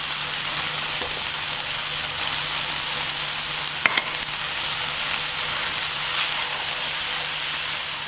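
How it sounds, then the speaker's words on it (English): Vegetables and onions stir-frying for Mongolian beef, a steady broadband sizzle and hiss running throughout with a brief scraping clatter of stirring near the middle, close and fairly loud, no talk. "The rest of the vegetables go in."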